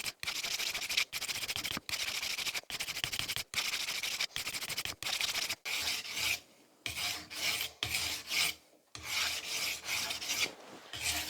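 A knife blade is drawn over a whetstone in repeated rasping strokes, steady and close at first, then in shorter, more spaced passes with brief pauses between them.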